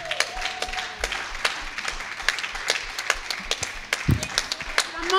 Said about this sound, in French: Applaudissons pour l'Éternel